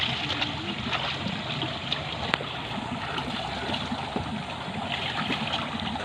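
Clear, cold creek water flows in a steady, continuous rush, loud and close, with a dense trickling texture and no voices over it.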